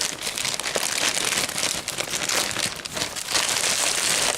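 Crinkly plastic or paper packaging around an orange Spyderco knife being unwrapped, a dense continuous rustling and crackling close up, steady throughout with no talking.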